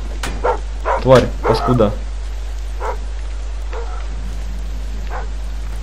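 Dogs bark and yip in a Thief stealth game, a burst of several sharp barks early on, then a few scattered, fainter yelps, with a steady low hum underneath and someone talking briefly.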